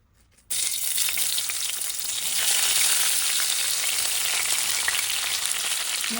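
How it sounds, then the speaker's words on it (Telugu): Sliced onions hit hot oil in a pan with a sudden loud hiss that settles into a steady, close, dense sizzle of frying, no voices. "ఈ ఆయిల్ వేడయ్యాక మనం ఆల్రెడీ కట్ చేసి పెట్టుకున్నాం కదా స్లైసెస్ ఆనియన్స్ని దీంట్లో హాఫ్ యాడ్ చేస్తున్నా నేను"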